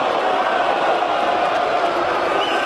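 Darts crowd at a PDC Premier League match between Hamilton and Whitlock, a steady, dense roar of noise and chatter from a packed arena, loud and continuous throughout.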